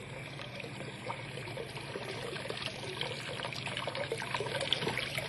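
Water rushes steadily through a lifted wooden gate into a shallow river channel, a continuous soft trickling and pouring flow at moderate distance with no talk over it.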